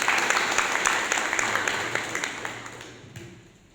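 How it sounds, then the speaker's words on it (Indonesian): An audience of dormitory residents and officers in Jayapura claps together, a full burst of applause that starts strong and gradually tapers off over a few seconds. "Kita tepuk tangan untuk kita semua."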